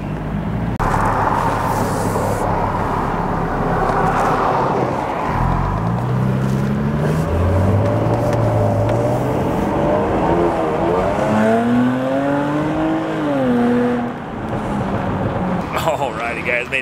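A supercharged Jaguar F-Type sports car being driven, its engine rising and falling through several revving pulls and gear changes with some tire noise, loud and close from inside the car.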